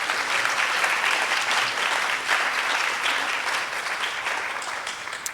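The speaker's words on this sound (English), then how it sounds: "Let's give our finalists a well-deserved round of applause." Audience applause for finalists at a regional National Civics Bee competition, a loud, dense round of clapping that holds steady for about five seconds before easing slightly at the end.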